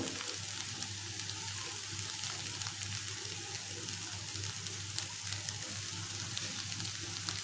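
Potatoes fry over a low flame in a pan, giving a steady, quiet sizzle and crackle that runs evenly throughout, with no voices.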